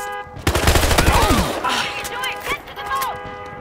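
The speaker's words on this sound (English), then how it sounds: "I'm shooting people!" Rapid automatic gunfire bursts from the Battlefield Hardline video game, loud and dense in the first second and a half, followed by scattered shots and effects while a player talks over the action.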